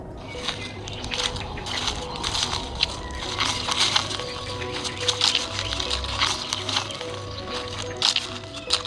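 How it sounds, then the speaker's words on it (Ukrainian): Steady crackling and crunching rustle, like dry leaves being stirred, with many small sharp crackles spread through the whole stretch at a moderate level. "шелест листя."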